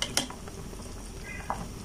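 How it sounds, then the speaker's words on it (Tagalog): Beef broth for kansi boils in a pot while scum is skimmed off, a steady bubbling simmer with a couple of soft utensil clinks against the pot. "Tatanggalin natin yung mga bula, yung mga tinatawag nilang scum."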